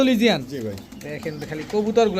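Andalusian pigeon coos mix with a voice talking close by, the soft burbling calls rising and falling beneath the speech.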